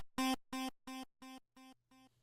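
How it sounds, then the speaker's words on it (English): Synth lead note run through a default delay patch, one bright buzzy tone followed by five evenly spaced echoes that fade steadily, heard alone. "this is what the default delay patch sounds like."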